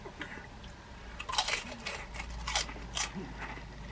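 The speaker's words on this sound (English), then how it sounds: "And you can hear the mild crunchiness." Barbecue-flavored snack being crunched and chewed up close, with a series of short crisp bites and crunches spread across the clip, fairly quiet with no talk.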